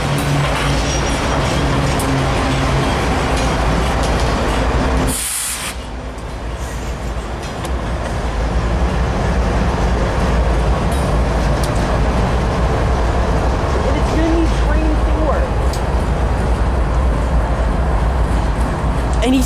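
A passing train led by a Norfolk Southern locomotive rumbles loudly and steadily at close range for the whole stretch, with a brief dip in the noise partway through.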